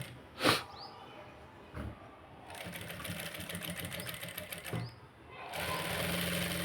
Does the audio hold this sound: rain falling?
no